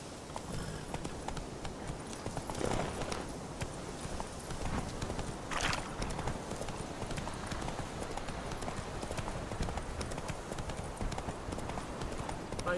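Hooves of the horse Roach clip-clop in a rapid galloping rhythm in The Witcher 3: Wild Hunt, a steady drumming of footfalls over ambient game noise with a couple of brief brighter rustles.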